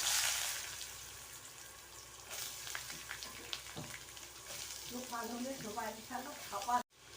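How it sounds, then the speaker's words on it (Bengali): Small potatoes frying in mustard oil in a wok for chow mein make a soft, steady sizzle with a few stirring scrapes, and a voice speaks near the end. "প্রথমে আমি ছোট মিডিয়াম সাইজের আলু নিয়েছি আলুটাকে ভেজে নেবো"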